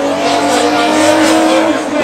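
A drift car at the OAKA All Stars Drift Race makes a pass with a sustained, loud tire squeal and engine roar, close and continuous for the whole stretch.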